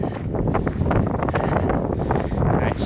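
Strong wind gusts roar steadily across a rocky hillside at a gold and copper prospect, loud and close to the microphone throughout with constant buffeting.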